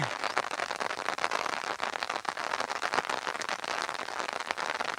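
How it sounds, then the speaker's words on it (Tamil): Heavy rain pours over a farming area west in Thanjavur district, Tamil Nadu, a dense, even hiss of drops, steady and unbroken, with no talking. "கனமழை வந்திருக்கிறது."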